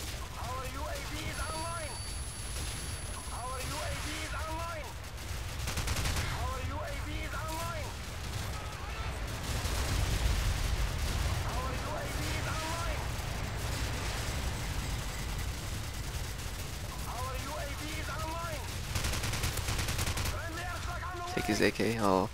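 Gunfire and grenade blasts fill an online Call of Duty 4 match on the Winter Crash map, with bursts of shots and thumping explosions scattered across a steady battle din while someone talks over much of it.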